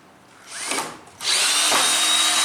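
A power drill whines up in a short burst, pauses, then runs steadily while driving screws during construction of barn doors on a garage, loud and close with no talk.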